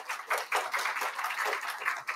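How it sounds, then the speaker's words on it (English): Conference audience applauding at a keynote event, a dense steady wash of many hands clapping throughout, moderately loud and without talk. "please give them a round of applause"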